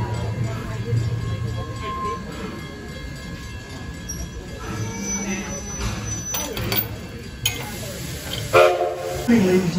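A 4-4-0 Edison steam train rolls along the Greenfield Village Railroad, its steady low rumble and clatter continuing throughout while announcements and passenger voices carry over the top, with some louder knocks near the end.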